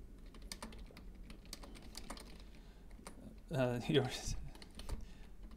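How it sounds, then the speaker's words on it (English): Clicks from a computer keyboard come in scattered, irregular keystrokes through a quiet room, with a brief spoken word cutting in partway through. "I'm typing"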